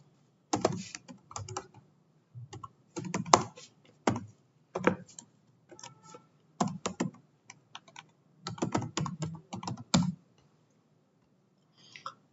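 Someone types an email address into an online registration form on a computer keyboard: quiet, close bursts of rapid key clicks separated by short pauses, with a final isolated tap after a longer gap.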